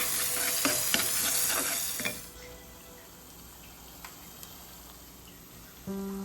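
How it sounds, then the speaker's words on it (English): Crushed garlic, shallots and curry leaves sauteed in coconut oil, a bright close sizzle with stirring clicks for about two seconds, then fading to a quiet low simmer with a brief clink near the end. "Saute for a minute."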